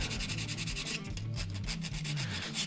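Abrasive rubs a short wooden guitar neck tenon with steady, close back-and-forth scuffing strokes in a rhythmic pattern, continuous for the whole stretch with no voices.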